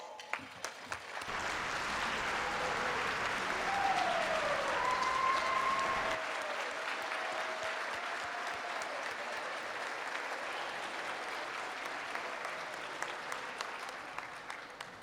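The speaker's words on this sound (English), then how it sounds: "let's give them a big round of applause" An audience claps for nursing students at a nurses' recognition event, a dense, steady round of applause lasting well over ten seconds and gradually thinning toward the end, with a few brief whoops rising above it.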